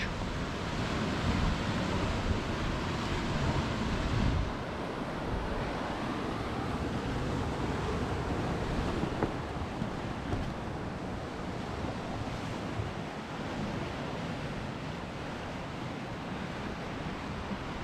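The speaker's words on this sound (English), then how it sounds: "It's incredible just to see the waves rolling in sometimes." Steady roar of sea waves washing onto the shore of the Angus coast, Scotland, with wind buffeting the microphone; continuous and fairly loud, no voices.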